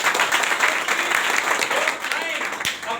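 An audience at a gathering applauds loudly and steadily, a dense wash of clapping close by, with a voice speaking over it.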